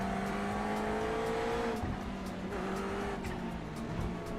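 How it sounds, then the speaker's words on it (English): Racing car engines in the iRacing video game whine and rise in pitch as they accelerate, with several cars overlapping in a steady synthetic drone. "This car sounds quite nice."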